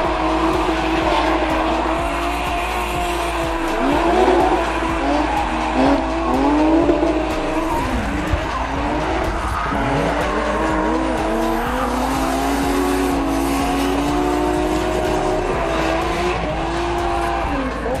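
Toyota Supra drift car at the Croix en Ternois circuit during a drift championship run, engine roaring loud and continuous while tires squeal and skid, pitch rising and falling with throttle.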